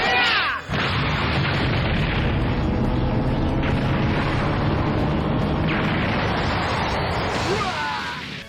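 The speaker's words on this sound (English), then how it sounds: "the Large Spirit Bomb is Goku's second ultimate attack in the entire game" Goku's Large Spirit Bomb ultimate attack from the Dragon Ball game Raging Blast 2 erupts as a loud, sustained roaring blast that rumbles continuously after a brief opening swell.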